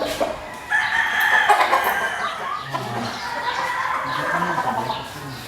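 An imported Bruce Barnett Legged Hatch gamecock crows loudly nearby, then follows with a run of throaty clucks, with other fowl faintly audible in the background.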